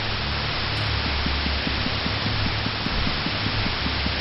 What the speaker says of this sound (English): The television screen is filled with white noise once again.